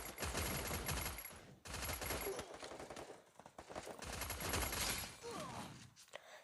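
A Thompson submachine gun firing in a shooter video game: loud, dense bursts of rapid fire lasting a second or two each, separated by short pauses.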